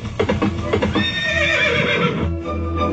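A horse whinnies loudly and close, a long wavering neigh over soft hoof clops and background chatter, with a low steady hum underneath.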